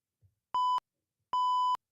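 Two identical electronic beeps from a sound pad, each a clean steady tone lasting about a quarter to half a second, separated by a short silence, close and clear.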